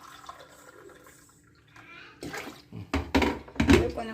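Water is poured into rice and lentils for pongal in a kitchen, starting as soft trickling and then coming in three louder splashing bursts toward the end.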